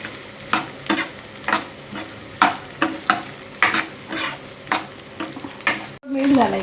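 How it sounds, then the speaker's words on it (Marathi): Green moong khichdi ingredients stir-fried in a hot pan: steady sizzling under repeated rhythmic scrapes of a spoon, close and fairly loud, ending with a sharp splash-like hiss as something is added. "ते परतवायचे।"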